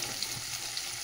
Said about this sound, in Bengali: আলুটা ভাজা হোক, একটু চাপা দিয়ে দিই।